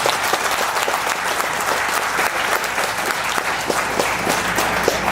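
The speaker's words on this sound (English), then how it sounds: "let's give him a round of applause" An audience at a gathering gives a round of applause, a dense, steady wash of many hands clapping throughout, moderately loud with no voices standing out.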